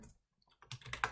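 Keys on a computer keyboard are typed in a short burst of quick, close clicks while entering Neovim editor commands, after a brief quiet pause.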